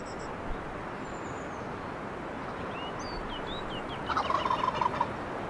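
A wild turkey longbeard in a turkey hunting video game lets out a rattling gobble at middle distance over a steady outdoor ambience, with a few light bird chirps earlier.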